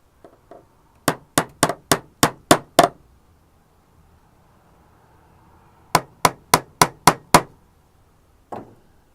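Hammer driving cable clips into a ceiling to secure data cables, two quick runs of about seven sharp, evenly spaced strikes each, close and clear, followed by one softer knock.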